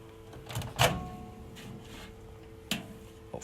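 Microwave oven door handled in a kitchen: two sharp clunks about two seconds apart with a faint hum between them, close by and without talk.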